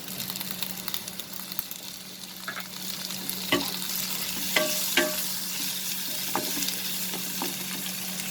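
Tomatoes sizzle in a hot pan with coriander, turmeric and red chili powder while aloo palak is cooked. Frying crackles continuously under a low hum, and a few sharp scrapes and taps of the spoon stir the mixture.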